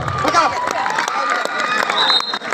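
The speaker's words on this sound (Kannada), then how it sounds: "ಒಂದ್ಸಾರಿ ಕೈ ಬಿಚ್ಚಿ ಜೋರಾದ ಚಪ್ಪಾಳೆ ಬರಲಿ ಆದ್ಮೇಲೆ ಎರಡು ತಂಡಕ್ಕೆ" Spectators cheer and clap loudly at a village kabaddi match in Konnur, Gadag: a continuous roar of shouting voices and applause, close and dense throughout.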